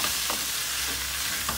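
Tomatoes and peppers tipped into tomato paste that has begun to catch on the pan bottom, giving a steady loud sizzle and frying hiss with faint stirring scrapes and no talk.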